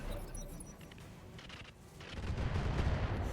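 Mech turrets firing in the RogueTech BattleTech mod, a rumble of distant booming shots that grows heavier and denser toward the end, with no talk over it.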